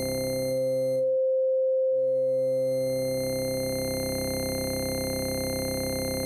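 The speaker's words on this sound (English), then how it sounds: "in this case we also have a growling type of sub-oscillator" An Absynth synthesizer patch with a growling sub-oscillator holds a steady buzzing tone with stacked harmonics. The low layer briefly drops out and returns, leaving a thinner pure tone for a moment before the full sound comes back.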